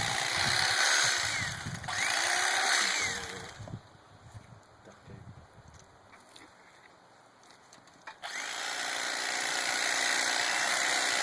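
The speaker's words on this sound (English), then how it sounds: "This is just a regular electric knife, not a Rapala or anything." A generic electric knife runs in steady buzzing bursts while filleting a northern pike. The bursts drop to a lower, quieter hum in the middle and then come back up near and loud.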